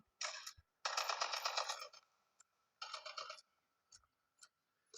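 Bursts of video game gunfire crackle in short and longer rapid volleys, separated by quiet gaps and a few isolated single shots.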